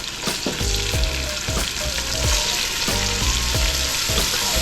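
Seasoning sizzles loudly in hot oil left from frying white snapper and kingfish, a steady crackling hiss broken by regular thumps of stirring, with no talk.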